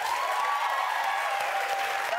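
A television talk-show studio audience claps in a steady, dense burst that fills the room evenly, with a voice briefly audible over the applause.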